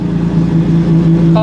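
A Maserati MC12 Corsa engine idles loud and close in a brief burst, a dense rumbling drone with a sharp rev blip at the very end.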